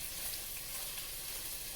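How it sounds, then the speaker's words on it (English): Bacon frying in a pan gives a steady, faint hiss and crackle of sizzling fat, even and unbroken across a short stretch with no voices. "So let me get my bacon frying up here."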